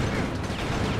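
Gunfire in the video game Killer7 comes as a dense, continuous roar of shots, loud and close with no pauses.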